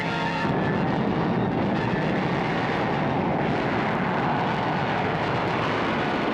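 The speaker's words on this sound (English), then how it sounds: "Attack planes coming in from south!" A loud, steady roar of low-flying attack planes in the cartoon Battle of the Planets fills the whole stretch, with no voices over it.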